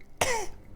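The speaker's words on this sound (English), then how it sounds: "finally can let the cough out after like 8 hours" A single sharp cough bursts out close by and fades within half a second, with quiet room noise before and after.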